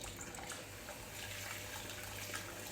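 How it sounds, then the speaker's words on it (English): Rice is washed by hand in a pot of water, with soft, continuous sloshing and swirling close by. "we're just gonna wash the rice there, and I like to put my hand in to make sure all the rice gets kind of washed"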